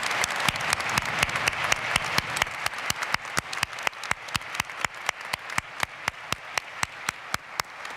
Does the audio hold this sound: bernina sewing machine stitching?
no